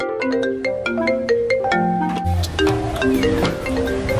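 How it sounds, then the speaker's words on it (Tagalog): A cellphone ringtone plays an incoming-call melody of bright, rapid tones in a clear repeating pattern, loud and close, with a denser tune continuing after the first phrase and no talking over it. "Ay anak, may tumatawag pala. Makikabot naman ang cellphone ko."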